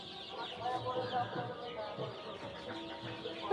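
Chickens, hens of mixed sizes kept in a coop and scuffling among themselves, cluck and squawk in a busy, overlapping stream close by, with some faint background murmur.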